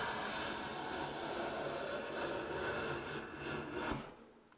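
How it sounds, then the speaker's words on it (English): A freshly sharpened hand plane with a flattened sole draws across a wood surface, taking a very thin shaving as one long, even, close rasping stroke that ends abruptly. "the plane can now take a shaving so thin you can read through it"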